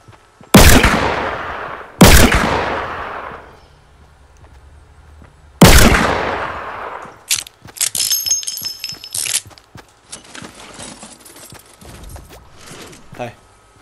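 Gunfire in the video game Fortnite: three loud, sharp shots spaced a second or more apart, then a busy stretch of quieter in-game clatter and effects.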